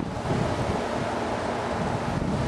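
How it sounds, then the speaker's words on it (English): Strong hurricane wind roars continuously and loudly during a storm, a dense broadband rush buffeting the microphone with no voices. "As you can tell, it's very super windy."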